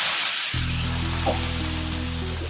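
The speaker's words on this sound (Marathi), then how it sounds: "एक पाण्याचा हप्ता मारूया" A sharp, steady hiss and sizzle as water is sprinkled onto a hot oiled griddle, close and loud, with a low hum beneath and no talking.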